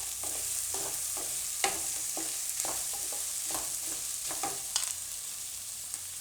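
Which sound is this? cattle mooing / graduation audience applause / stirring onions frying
stirring onions frying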